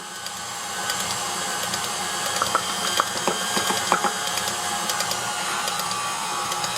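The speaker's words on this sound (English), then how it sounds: "When you hear that your mixer's starting to struggle a little, just turn it up." Electric stand mixer straining as it churns thick gingerbread cookie dough, a steady mechanical whir with rattling, clicking gear-like knocks that grow busier toward the middle, close up with no speech.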